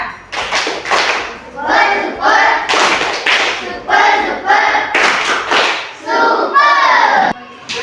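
A class of pupils claps together for a fellow group during a maths lesson in an Indonesian school, producing patterned, rhythmic clapping in loud bursts mixed with children's voices chanting along.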